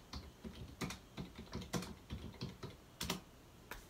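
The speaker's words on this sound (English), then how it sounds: "I'm going to quickly type in Mike Ashley net worth." Quick bursts of typing on a computer keyboard, irregular clusters of key clicks over about four seconds, close and fairly quiet, with no voices.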